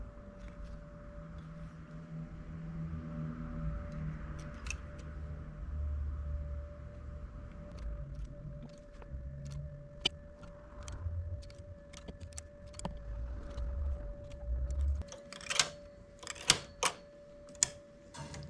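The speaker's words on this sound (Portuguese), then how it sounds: "eu também já vou costurar na máquina." A domestic knitting machine works a machine-knit cardigan, its carriage sliding with rumbling runs and then sharp metallic clicks and clacks of needles and the transfer tool, close and fairly quiet over a faint steady hum.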